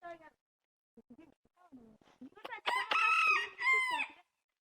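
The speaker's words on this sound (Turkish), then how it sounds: "süs horozumuz da ötüyor" Faint clucks and brief murmurs lead into a loud, close crow from an ornamental village rooster, with two long stretched phrases.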